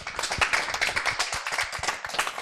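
Children at a religious birthday celebration program clap their hands together in a short burst of brisk, uneven applause, close and fairly loud, with no talking.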